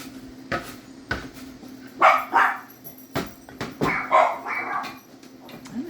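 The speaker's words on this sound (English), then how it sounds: "dogs are barking at who knows what" Several dogs bark in scattered bursts, some sharp single barks and some clustered yips, moderately close, with a steady hum underneath.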